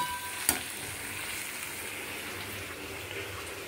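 Nutrella soy chunks are sautéed with capsicum, onion and green chilli, producing an even hissing sizzle throughout, with one sharp utensil click near the start.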